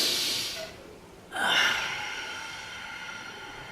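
A yoga practitioner takes a long, audible breath in, then a brief pause followed by a strong airy exhale that tapers off, close and breathy with no talk.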